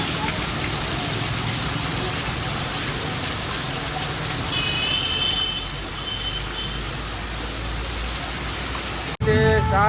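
Heavy rain pours steadily during a downpour that has gone on for about an hour and a half, with traffic nearby, a dense hiss filling the scene, faint beeping partway through, and a sharp louder burst at the very end.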